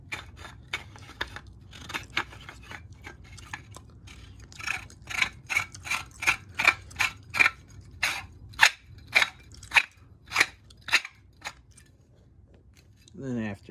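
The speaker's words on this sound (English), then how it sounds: "we'll just take these two pieces right here and then we're just gonna screw them together" Cast iron leg base pieces of a gumball machine being screwed together, giving a run of sharp, evenly spaced metallic clicks and scrapes, close and fairly loud, speeding into a regular ratcheting rhythm before stopping.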